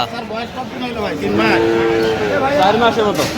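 Cows and calves mooing at a busy village cattle market (Aftabganj haat, Dinajpur), a drawn-out low moo near the middle over steady crowd chatter and background voices.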